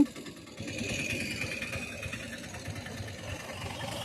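A tractor engine runs steadily in a village beside farm fields, a continuous low rumble with a faint idling chug, moderately close and without speech.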